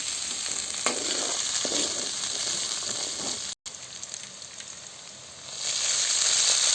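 Garlic, onion, pepper and dried berries sizzling steadily in a pan, a loud close hiss broken by a brief gap, then quieter frying that swells again toward the end.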